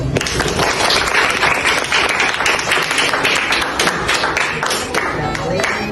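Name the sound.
students applauding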